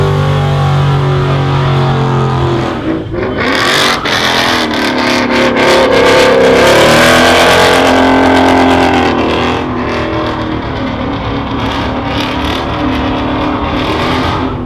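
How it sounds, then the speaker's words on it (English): Several cars doing burnouts at a New York City street takeover, engines revving loudly and continuously in a dense, chaotic roar with tyre noise, close by and with no pauses. "They're still doing burnouts."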